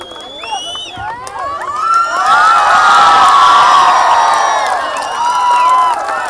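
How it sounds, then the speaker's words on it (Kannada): A crowd at a school silver jubilee celebration in Mandya cheering after a performance, loud children's shouts and whoops swelling into a sustained roar with only light clapping. "ಜೋರಾದ ಚಪ್ಪಾಳೆ ಬರಲಿ"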